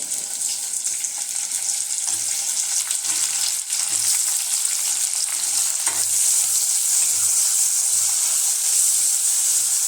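Tomatoes fry and sizzle in a hot pan for Kolhapuri kurma, a steady close crackling hiss with a few soft stirring clunks and no voices.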